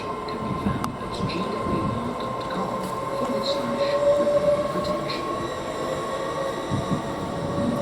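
A Class 66 diesel locomotive pulls away from Didcot Parkway station on the Great Western Main Line, a steady rumbling drone with wheel and rail noise, close and continuous throughout.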